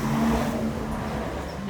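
A car passes nearby with a steady engine whir and road rush that fades slightly over a second or two, and no voices are heard.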